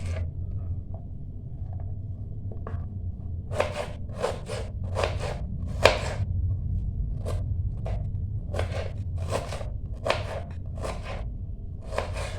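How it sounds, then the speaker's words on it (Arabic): A knife chops onion into fairly large pieces on a board for Palestinian stuffed cabbage, sharp crisp cuts landing in irregular bursts and single strokes over a low steady background hum. "راح اكمل تقطيع باقي كمية البصل"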